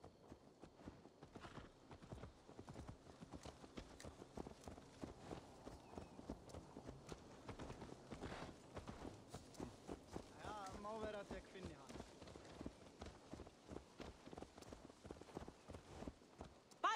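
Horse hooves clip-clop in a steady walking rhythm in Assassin's Creed Valhalla, continuous and fairly close, with character dialogue and quiet game ambience underneath.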